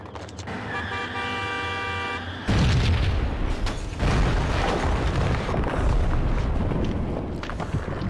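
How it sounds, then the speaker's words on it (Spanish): Rocket launcher explosions in the video game Max Payne: a tonal horn-like blare gives way to a sudden loud boom, followed by sustained rumbling blasts and debris noise, with another hit near the middle. "Lanza cohetes. Buenísima."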